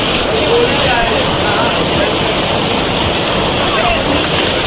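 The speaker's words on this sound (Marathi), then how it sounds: "पूर्ण वाट लागलेली आहे मजबूत पाऊस आहे" Dense, steady roar of heavy monsoon rain pouring down on a pat puja ceremony in Ghatkopar, Mumbai, loud and unbroken throughout, with a wash of water noise filling the whole clip.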